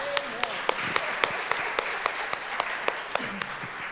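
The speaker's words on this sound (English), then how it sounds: "Can you give her another applause?" A church congregation applauds in a steady wash of clapping, with a few sharp, distinct claps standing out, during an English-language service.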